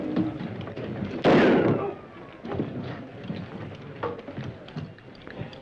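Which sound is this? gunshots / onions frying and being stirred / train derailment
gunshots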